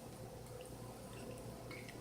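Sugar being stirred into water to make water kefir, a faint, steady liquid swirl with small drips and clinks, quiet and continuous, with no voices.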